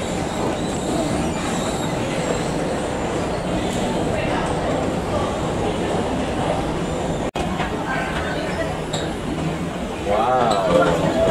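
New commuter-style train from KL Sentral to Taiping, Perak, heard from inside as a steady rumbling ride with faint clinks and wheel noise, continuous and fairly loud throughout, one brief dropout partway.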